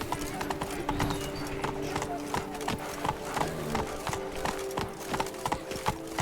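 Horse hooves clip-clop at a steady gallop in The Witcher 3: Blood and Wine, a close, continuous rhythmic pounding with faint background music and a brief snort or whinny.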